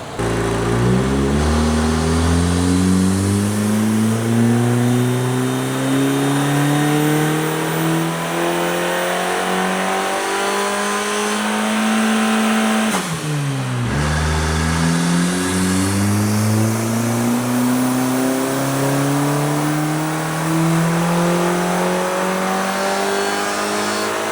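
A turbocharged Honda K-series engine in an EG chassis, tuned on a 60% ethanol mix, revs loudly and steadily through long climbing pulls. There is a brief dip and drop near the middle, then it winds up again, close and sustained.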